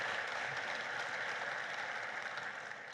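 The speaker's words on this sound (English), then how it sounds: "A round of applause to our panelists and moderators." An audience at a panel session on insecurity in Africa applauds its panelists and moderators with a dense, sustained wash of clapping that tapers slightly at the end.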